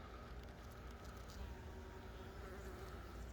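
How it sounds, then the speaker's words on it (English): Bees buzzing around flowers in an organically grown urban garden in Oregon, a faint, continuous hum with no pauses or voices. "Pretty much from the morning time till evening time, it's bees going everywhere."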